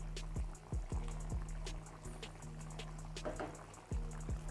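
An anchovy and cowpea curry boiling in a pot, with a steady simmer punctuated by repeated thick bubbling pops rising and bursting at close range.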